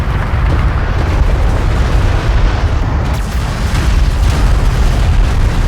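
Enemy railgun fire and explosions in Homeworld: Deserts of Kharak form a dense, loud wall of booming blasts and rumbling impacts that continues without a break.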